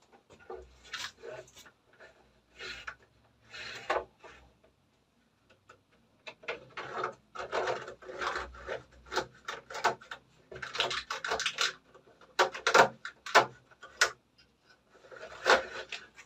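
Cables being handled and wired on a CCTV demonstration mockup, with intermittent rubbing, scraping and light clicking bursts close by, separated by short pauses and no talk.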